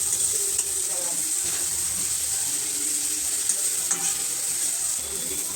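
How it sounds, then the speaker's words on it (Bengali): Turmeric and chilli powder fry with potatoes in oil for a fish curry, a continuous close sizzle broken by occasional scrapes of stirring, with no voice. "এখন ভালো করে মশলাগুলো আলু দিয়ে কষিয়ে নেব।"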